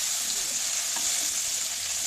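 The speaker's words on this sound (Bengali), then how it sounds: "এখন আমি পেঁয়াজ, রসুন ভেজে নেব।" Onion and garlic fry in a pan, giving a loud, steady, close hiss and sizzle with faint stirring scrapes throughout and no voices.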